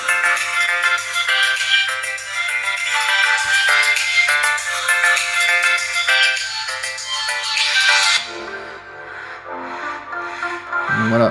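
A ringtone plays through the stereo speakers of a POCO F5 smartphone, a bright melodic tune with steady repeating notes, loud and clear, then it cuts off near the end and a few quieter tones follow.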